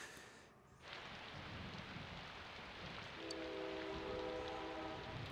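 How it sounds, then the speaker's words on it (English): A loud train passes outside an open window on a rainy night, with a steady rumbling wash joined partway through by a sustained, sonorous horn blast. "That train is real loud."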